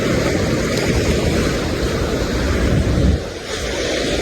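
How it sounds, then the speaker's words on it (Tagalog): Strong sea waves crashing on a shore near Burias, a loud continuous roar of surf with wind buffeting the microphone, swelling and then dropping briefly near the end. "Pero nakakatakot talaga yung alon. Nakakatakot yung alon."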